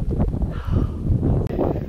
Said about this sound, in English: The wind is so bad out here